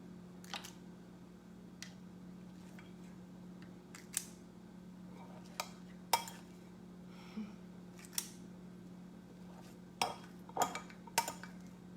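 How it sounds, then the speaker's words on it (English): A medium scoop drops filling into each well of a brownie pan of ravioli lasagna. Soft, scattered clinks and taps of metal on metal come at irregular intervals over a quiet, steady hum. "I'm going to use my medium scoop, which is about 2 tablespoons. Put 1 inside of each"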